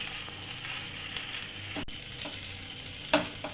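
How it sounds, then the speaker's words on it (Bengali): Boiled pasta and mixed vegetables sizzle steadily as they fry in a pan, with a continuous hiss broken by the occasional scrape or clack of a spoon stirring, heard close up and with no talking. "পাস্তাটা সমস্ত সবজির সঙ্গে এরকম নেড়ে চেড়ে মিশিয়ে আমি ভালোভাবে কুক করে নেব 2 মিনিটের জন্য"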